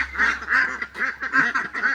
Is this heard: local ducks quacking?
yes